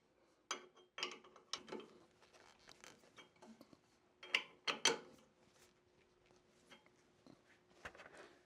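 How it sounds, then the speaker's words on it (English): A wood-turning base being tightened hard into a lathe chuck gives quiet, irregular metallic clicks and ratcheting snaps, spaced apart with brief silences between. "now you put the base in, you tighten it very hard"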